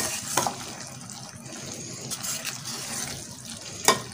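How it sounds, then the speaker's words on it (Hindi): Fried okra is stirred into masala in a pan, giving a soft, close sizzle and scraping, with two sharp utensil clanks against the pan near the start and end. "अब इसको अच्छी तरह से चलाएंगे।"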